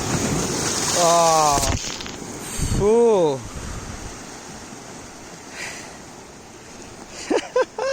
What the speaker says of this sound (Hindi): ये कुछ लहरें आ रही है।